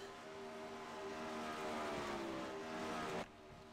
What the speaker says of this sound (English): First couple of cars on the racetrack.